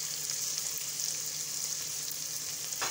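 Carrots and beans frying in a pan for vegetable rava kichadi, a continuous close sizzle with soft stirring scrapes and a brief louder crackle near the end.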